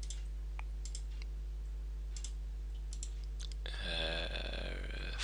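Computer mouse clicks: a few sharp, faint taps spaced irregularly over a quiet hum, followed near the end by a louder tonal sound.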